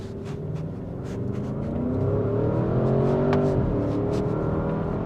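A Porsche Cayenne Turbo GT accelerates hard, its engine note climbing steadily in pitch and volume through the gears, a loud continuous roar with a brief shift dip near the end.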